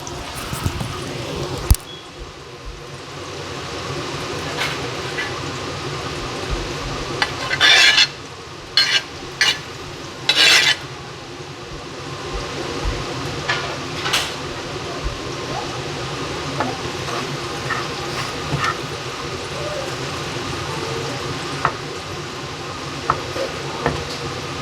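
Onions, chili, ginger and garlic fry for a curry in a pan, giving a steady sizzle broken by loud scraping stirs and sharp clatters of a utensil against the pan.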